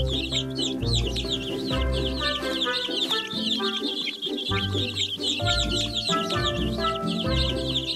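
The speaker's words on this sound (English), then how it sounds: "Feed the hungry baby birds with some seeds." Hungry baby birds chirp in a children's counting game, rapid high peeping repeating over a looping cheerful music track, with clucking fowl-like calls mixed in.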